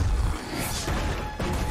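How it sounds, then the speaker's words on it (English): A plane crash in the video game The Last of Us rumbles and smashes heavily, with a loud crunching impact near the start and another jolt just before the end. "Oh, plane crashing."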